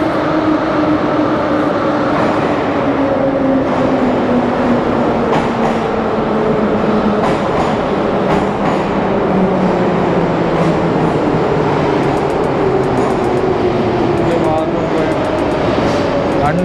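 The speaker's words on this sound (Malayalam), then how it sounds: "അടുത്ത ട്രെയിൻ അപ്പുറത്തെ ഭാഗത്ത് വരുന്നു." A Moscow metro train pulls into an underground station with a loud, continuous rumble and a slowly falling whine, the roar filling the platform throughout.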